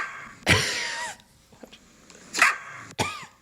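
A puppy barking in a played-back video, three sharp separate barks with quiet gaps between, the middle one followed by faint small yips, fairly close and alone without talk.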